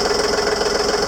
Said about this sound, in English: Alright, we turned on the engine.